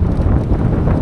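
Strong crosswind roars and buffets against the microphone of a cyclist on a Bolivian road, a steady, loud, low rumble with no voices.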